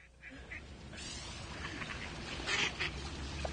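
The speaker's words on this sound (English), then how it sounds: "It's a duck fight, ladies and gentlemen." Ducks quacking and squabbling in a scuffle, harsh calls rising and overlapping over steady outdoor background noise, growing louder toward the end.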